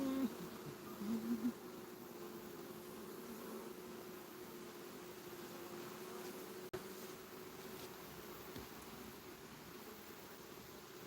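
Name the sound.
honeybees buzzing at beehives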